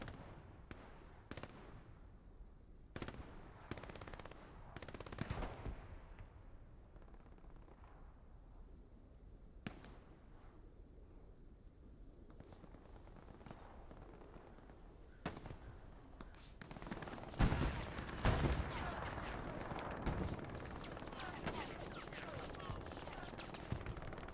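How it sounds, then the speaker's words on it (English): Machine-gun fire in a team-based war video game match: scattered shots at first, then dense, rapid bursts toward the end, all under steady background noise. "This machine gun just is going crazy."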